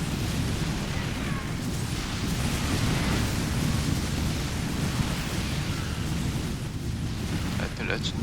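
Small bombs explode in the StarCraft 2 video game as a loud, continuous, rumbling roar of blasts that fills the whole stretch without pause.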